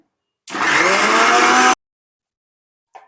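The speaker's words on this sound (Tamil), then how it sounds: "இது நல்லா ஃபைனாக வர்றதுக்கு மாதிரி அரைச்சிக்கோங்க" A kitchen blender grinds cooked pineapple into a fine filling, one loud, steady whirring burst of a little over a second that cuts off abruptly, followed by a faint brief knock.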